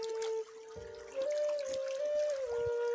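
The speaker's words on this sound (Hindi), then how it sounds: "मैं आपको नज़ारा दिखा रहा हूँ ठंडे और मीठे चश्मे का पानी का" Cold, sweet spring water flows from a mountain source in a valley of Gilgit-Baltistan, a close, continuous trickle with a faint steady tonal hum over it and no voices.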